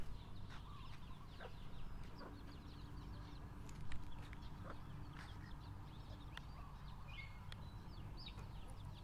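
Faint, scattered chicken clucks and short calls come from a distance over a steady low background rumble.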